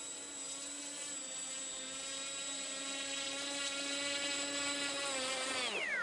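A Bixler model plane fitted with a DJI FPV system taxis with a steady, high-pitched electric motor whine close by, which drops sharply in pitch as the throttle is cut near the end.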